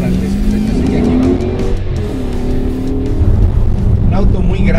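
A 2015 Dodge Challenger R/T Shaker drives on a narrow track, its engine droning loudly and steadily with rising pitch under acceleration, while someone talks over it.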